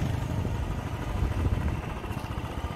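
A Royal Enfield Classic 350 single-cylinder motorcycle idles with a steady low thumping pulse and mechanical clatter, close and continuous with no talk over it.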